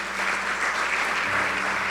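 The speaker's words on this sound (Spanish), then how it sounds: "Denle un fuerte aplauso al Señor." A church congregation claps together in strong, sustained applause during a sermon, a dense wash of many hands filling the room from start to finish, with no talking over it.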